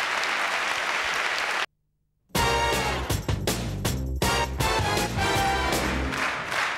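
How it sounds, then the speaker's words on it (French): A studio audience on a French television show applauds for a few seconds, then the clapping cuts off into brief silence before music begins. "applaudissements pour les deux jeunes gens"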